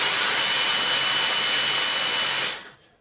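A Dyson DC44 cordless vacuum cleaner runs with its brush bar spinning, a loud steady high-pitched whine close up that cuts off and winds down abruptly near the end.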